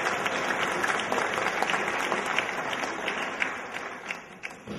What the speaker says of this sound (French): Applaudissements pour Michel Duby.